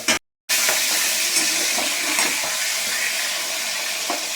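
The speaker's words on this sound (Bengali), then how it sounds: "লাউগুলো ভালো করে নেড়ে নিই, তারপরে এর মধ্যে আলু চিংড়ি দিয়ে নেড়ে দেবো।" Bottle gourd with potatoes and shrimp being stirred in a frying pan, giving a steady close hiss and sizzle with faint scraping, running continuously after a brief silent gap.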